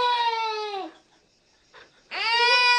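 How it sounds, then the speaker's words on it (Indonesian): A baby in the film The Medium cries loudly in two long wailing bursts separated by a short quiet pause, close and alone. "ternyata suara bayi itu adalah suara dari Ming."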